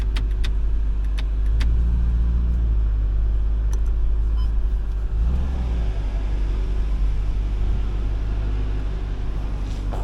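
A stuck forklift's engine runs steadily with a deep, continuous low rumble, swelling briefly as it works to break free, with no talking.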